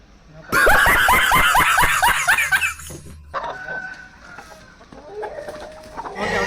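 A hen clucking in a loud, rapid run of repeated clucks for a few seconds, close by, followed by quieter background sounds.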